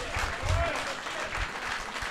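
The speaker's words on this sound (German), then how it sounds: "deswegen noch einmal Applaus" An audience applauds at a speedrunning charity marathon event, a steady wash of clapping that holds at even loudness throughout, with a voice talking over it.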